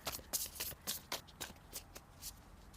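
Tarot cards are shuffled by hand in a rapid, rhythmic series of soft riffling bursts, close and fairly quiet, continuing for nearly three seconds without talking.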